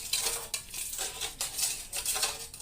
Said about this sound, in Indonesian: Teman-teman aduk sampai rata.